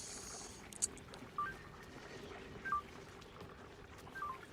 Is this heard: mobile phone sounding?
yes